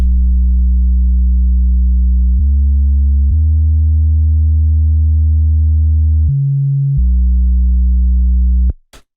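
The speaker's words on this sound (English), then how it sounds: "it's made using operator. So we got a square wave with a low pass filter." A synth square wave through a low-pass filter, built in Ableton Operator for a breakbeat rave track, holds a smooth, steady run of bass notes that steps between pitches, loud and alone, stopping with a sharp click.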